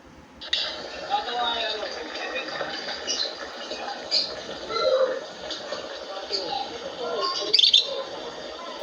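An African lovebird gives a string of short chirps and shrill calls, imitating a rooster's crow, close by and moderately loud against faint background noise.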